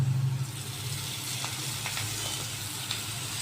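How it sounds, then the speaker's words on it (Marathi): Oil hits browned, reddened onions in a pan for egg bhurji and sizzles steadily, with a soft continuous crackle and faint spits throughout. "त्याच्यात आपण थोडं तेल ओतून घेऊ"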